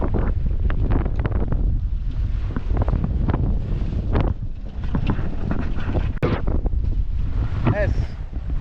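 Strong wind buffets a solo sailboat at sea off the Isle of Wight, a loud, steady roar of gusts over the microphone with splashes and creaks of the boat throughout.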